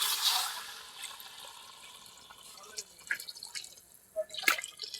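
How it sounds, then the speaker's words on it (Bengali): Water poured into a pan of chicken that has been browning and sticking to the bottom, a soft hissing splash at the start, then faint dripping and small clinks under quiet background sounds. "এবার জল দিয়ে দেবো"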